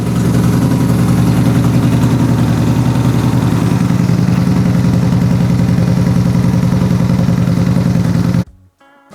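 A 2015 Yamaha Bolt motorcycle idles to warm up before an oil change, its V-twin engine giving a loud, close, steady pulsing rumble that cuts off abruptly near the end.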